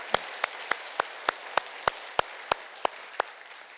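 A church congregation gives a round of thanks during a Sunday service: about a dozen evenly spaced sharp claps ring out one after another, fairly loud against a quiet room, with no talking.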